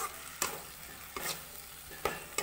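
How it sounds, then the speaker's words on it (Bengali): Onion paste and spices are sautéed in mustard oil, with a quiet, constant frying hiss and a few spaced scraping strokes of a spatula across the pan, close but soft, and no voices. "এরপর এটা ভালো করে কষিয়ে নেব, রান্নাটা ভালো করে একটু মশলাটার সাথে কষিয়ে নেব।"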